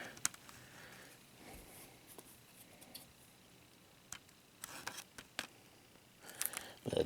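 Scissors snip through packaging while a limited edition game is unboxed, a few sharp clicks and short cutting bursts spread out over low background noise, growing busier near the end.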